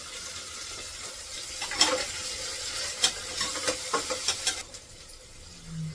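Onion and tomato sautéing in a hot pan, a steady soft sizzle with a series of sharp spoon scrapes and clinks against the pan, ending with a faint low hum.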